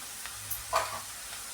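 A ground coconut and tomato mixture fries in hot oil with a soft, steady sizzle and faint crackle, quiet and close, with a brief louder hiss partway through.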